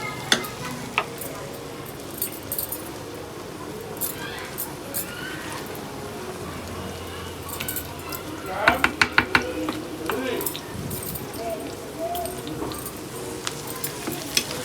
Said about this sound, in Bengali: তো এখানে বাগারের জন্য আমি পেঁয়াজটাকে ভেজে নিচ্ছি।